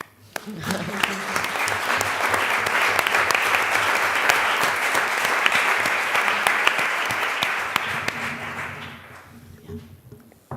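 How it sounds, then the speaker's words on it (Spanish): A crowd applauds at a panel on women film directors, a long, dense burst of clapping that swells quickly, holds steady, then thins out near the end as a voice returns underneath. "Un aplauso, ¿no?"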